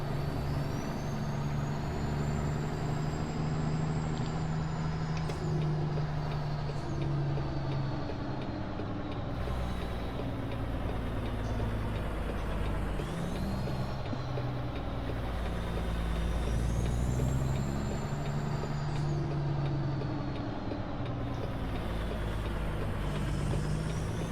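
Heavy truck hauling a special transport of tires in American Truck Simulator, a continuous loud diesel engine rumble with shifting pitch and hissing air-brake releases while reversing slowly, no talk.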